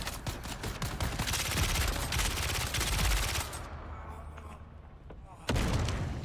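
Gunfire and explosions in the video game Dune: Awakening, loud dense bursts of shots and booms for several seconds, then a brief lull before another sharp blast.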